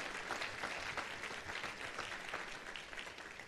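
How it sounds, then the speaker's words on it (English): A church audience claps steadily during a Christmas service, a fairly distant, moderate wash of applause that begins to taper off near the end. "Let's give the Lord another round of applause."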